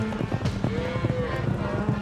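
Horses' hooves clip-clop in a quick, steady rhythm as riders herd cattle across a field in Alabama, the close hoofbeats mixed with rustling and background noise.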